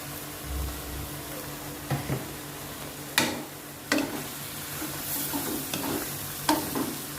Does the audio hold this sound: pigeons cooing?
no